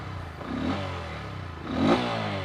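Bajaj Pulsar N125 motorcycle engine running smoothly at idle, a low steady hum with two brief revs that rise and fall, nearby and moderately loud, with no talking.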